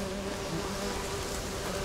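A swarm of wasps in The Witcher 3 hums in a steady, dense drone, close and continuous, with no voices over it.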